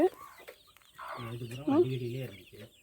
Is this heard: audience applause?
no